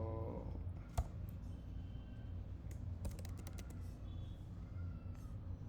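Code being typed on a computer keyboard, with scattered clusters of soft key clicks over a steady background hiss and no talking.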